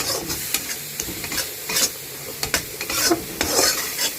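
Masala for lobia roasting in a pan, a steady close sizzle broken by repeated scraping strokes of a spoon stirring through the thick paste, with no talking.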